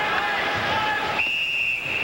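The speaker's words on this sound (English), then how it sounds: "And a whistle." A referee's whistle sounds at a 1993 NCAA ice hockey semifinal between Maine and Michigan, a sustained shrill tone over crowd hubbub and arena noise, fairly faint in the mix.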